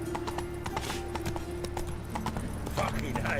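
Hooves of Geralt's horse Roach clip-clopping in a steady, quick rhythm across the ground in The Witcher 3, close and continuous under a voice and other game sounds.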